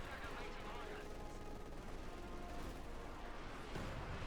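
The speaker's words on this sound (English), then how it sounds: "Just unleashing barrage after barrage. An unending carpet of rockets and death." Rocket artillery barrage in Company of Heroes 2, a dense continuous rumble of launches and explosions, steady and loud throughout with no clear breaks.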